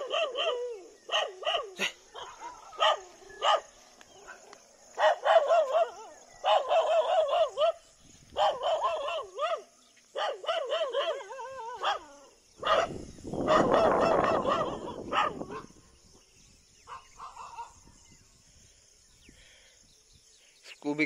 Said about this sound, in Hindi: भाई तुम लोग भौंक लो जितना भौंक सकते हो